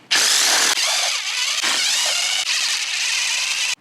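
A power tool whines loudly in repeated bursts as it backs out the bolts on a transmission cover, its pitch wavering with short breaks between runs, close up and with no talking.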